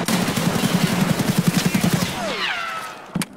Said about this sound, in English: I hear someone dumping a mag over by Ollie.